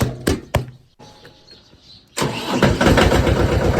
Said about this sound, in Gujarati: ટ્રેક્ટર કાઢ્યું, ટ્રેક્ટરનો અવાજ સાંભળી લ્યો જરી.